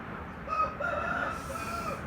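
A pet rooster in a home chicken coop crows once, a sustained nasal call drawn out over about a second, fairly close and clear against quiet outdoor background, no one talking.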